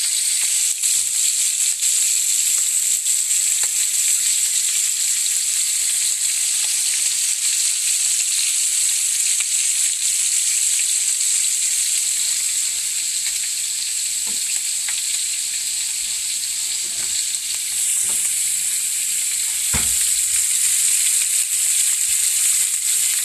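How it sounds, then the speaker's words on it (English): Sausage fries in hot oil with a steady, loud, bright sizzle that runs throughout, with occasional pops and scrapes at close range and no voices. "Sausage is almost ready. Get some frying oil back here. Let's get that hot"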